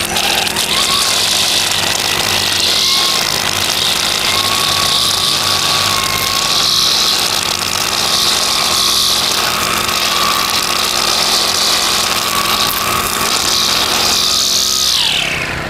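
Gas string trimmer spinning cheap Chinese-made nylon line through grass, a loud steady high whine that runs continuously before the engine winds down near the end.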